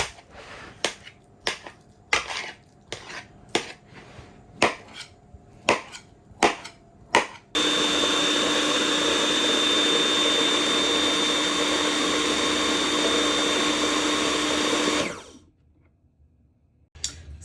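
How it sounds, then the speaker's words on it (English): Several sharp chopping knocks, then a loud, steady blender whir pureeing pumpkin runs for about seven seconds before cutting off into quiet. "it's going to go in the blender"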